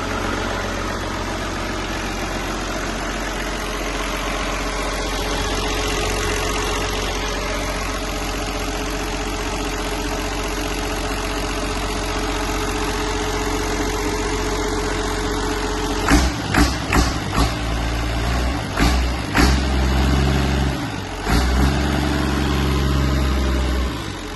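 A Massey Ferguson 1250 tractor engine with a newly fitted engine part idles steadily for a long stretch, then knocks and revs in uneven bursts before settling back to a rough idle.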